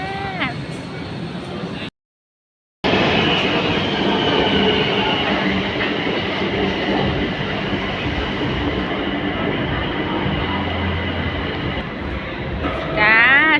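A train rumbles loudly and steadily, with rail noise and wheel squeals near the start and end, and a brief dropout of sound early on; talk is mixed in.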